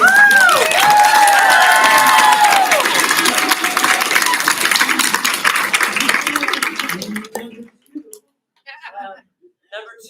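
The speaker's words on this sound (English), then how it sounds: "I heard a couple of claps for that one" A crowd applauding and cheering together, dense clapping that fades out after several seconds, with a voice beginning to speak near the end.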